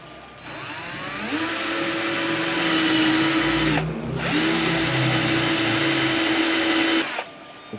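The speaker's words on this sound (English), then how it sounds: "let me go ahead and drill a hole through this" A power drill whines steadily as it bores a hole through wood for a dowel, running in two long sustained bursts separated by a short pause, loud and close.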